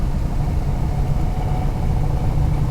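A 1967 Mustang S-Code with a 390 engine, just started and running, holds a steady low idling rumble close by with no voices over it.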